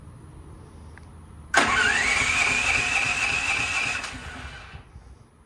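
A Duromax XP13000HXT generator running on natural gas cranks loudly from about a third of the way in, a sustained whirring starter drone with a rising pitch that holds for a few seconds and then cuts off, with no voices.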